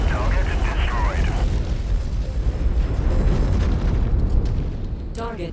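Heavy explosion in a space combat game as a target is destroyed, a sustained low rumbling boom filling the whole stretch, loud and dense, with a brief electronic chirp near the end.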